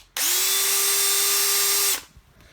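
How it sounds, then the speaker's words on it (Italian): A Parkside cordless drill driver on a 12V battery runs with a steady, loud motor whine for about two seconds, starting and stopping abruptly, with no voices. "Sul trapano, invece, sull'avvitatore"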